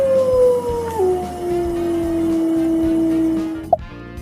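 A wolf howls in one long, loud, sustained tone that starts high, dips slightly and slowly falls, heard alone and close, ending with a brief sharper yelp.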